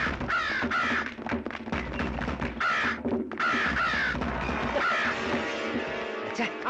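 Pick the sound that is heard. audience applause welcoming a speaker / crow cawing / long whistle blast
crow cawing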